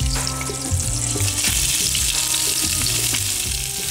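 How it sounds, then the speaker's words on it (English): A cinnamon stick and bay leaf fry in hot oil, giving a steady, close, continuous sizzle with small crackles and occasional stirring clinks throughout, with no voices. "Cinnamon stick and a bay leaf. Fry those until they're fragrant."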